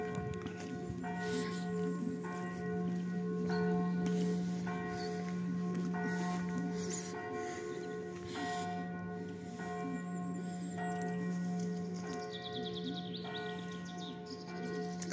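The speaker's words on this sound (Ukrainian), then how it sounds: "Чи ти дзвони в церкві?" Church bells ring at a distance in Truskavets, Ukraine, in a steady, sustained peal of repeated tolls under a constant outdoor hum, with birdsong chirping faintly on top.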